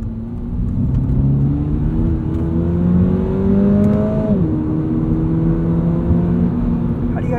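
A 2022 Subaru BRZ engine with automatic transmission drones loudly inside the cabin, its pitch climbing steadily as revs rise, then dropping sharply with a gear change before rising again.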